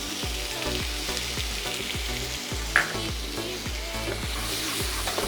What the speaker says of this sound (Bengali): কেটে রাখা ইয়েলো বেল পেপার ডাইসেস আর রেড বেল পেপার ডাইসেস, আর এর মধ্যে দিয়ে দেবো আমি কিছু স্ট্রিপস করে কেটে রাখা চিকেন।